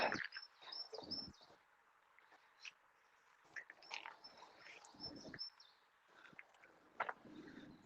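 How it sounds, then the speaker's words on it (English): Birds chirp and tweet outdoors, scattered short calls and trills at moderate distance, with quiet gaps between bursts and no talking. "You hear the birds as well coming out."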